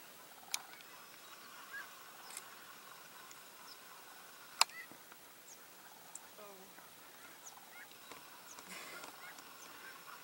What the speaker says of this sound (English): over this way, we have a whole bunch of snow geese